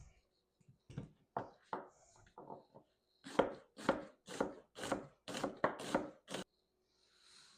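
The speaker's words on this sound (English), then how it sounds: "Fennel bulb. I'm going to cut it in half, remove the core," A fennel bulb being cut on a board with a knife, a run of crisp chopping strokes, irregular at first, then a faster, steady series of close, distinct cuts, with no talking.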